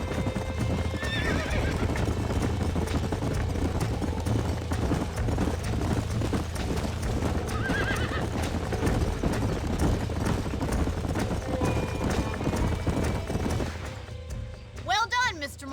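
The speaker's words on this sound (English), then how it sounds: "These are fine horses." Hooves clip-clop steadily as a group of horses gallop across open ground in the Red Dead Redemption video game, with occasional whinnies and neighs rising above the continuous drumming throughout.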